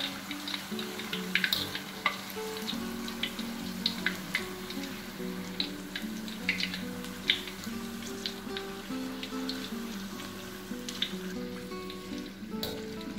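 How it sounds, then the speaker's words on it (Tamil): Banana slices deep-frying in hot oil until crisp for banana chips, giving a steady close sizzle with scattered pops and crackles throughout, no voices. "எண்ணெய் நல்லா சூடாக இருந்துச்சுன்னா இது கொஞ்சம் நேரத்தில் பொரிஞ்சிடும்"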